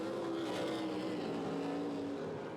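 Race truck engines from a 2007 CORR Pro 4 off-road race, a high-pitched Toyota among them, whine steadily at a distance with a sustained tone that holds, fades slightly, then rises again over broad crowd and track noise.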